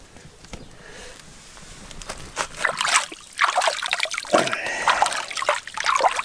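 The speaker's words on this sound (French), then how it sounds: "Ça circule bien. Il y a beaucoup d'eau" Water flows where three wadis meet, a steady trickling and splashing that grows louder and busier partway through, close by with no voices.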